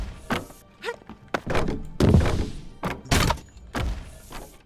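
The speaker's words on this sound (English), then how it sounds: "That shot the ballista, didn't it?" Heavy wooden thunks and thuds from a ballista firing in the indie game Goblin Cleanup, several separate impacts in an irregular rhythm, close and fairly loud with no talk over them.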